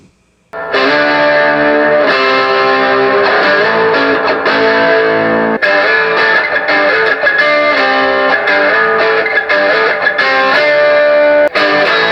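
A sustained electric guitar through a Marshall amp with reverb plays loud, distorted chords with a washy, echoing reverb tail, ringing continuously without pauses.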